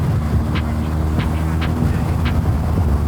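BMW R 1250 GS boxer-twin motorcycle cruising steadily in fifth gear, a continuous low engine drone blended with wind rush, with faint periodic whooshes over the top.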